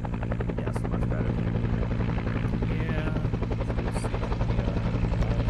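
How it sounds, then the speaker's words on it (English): Arma 3 helicopter rotor thudding steadily and loudly throughout, a dense continuous drone with faint voices underneath. "We can't get in the helicopter"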